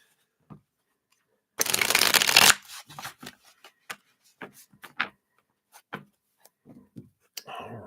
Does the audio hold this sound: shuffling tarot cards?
yes